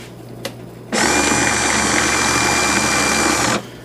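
A 2000 lb electric winch motor spools out cable in one loud, steady, close whine that starts abruptly, holds for under three seconds and cuts off sharply.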